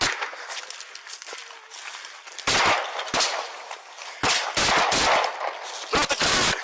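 Several loud gunshots ring out during a police altercation, coming in sharp irregular bursts with two quick clusters near the end. Quieter rustling and movement fill the gaps between them.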